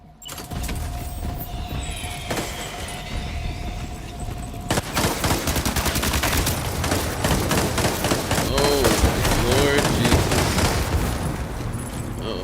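Rapid gunfire in Death Stranding 2, with dense bursts of sharp shotgun-like blasts and clatter over a low rumble, building through the middle and continuing steadily to the end, with a voice speaking over it.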